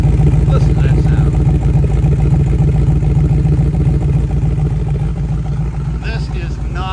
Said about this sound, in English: I mentioned that custom exhaust with the Magnaflow muffler and the headers. Listen to that sound.